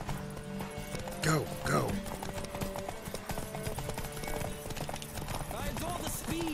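Horse hooves clip-clopping at a gallop in The Witcher 3 video game, with a neigh or two over rhythmic pounding and a voice urging it on.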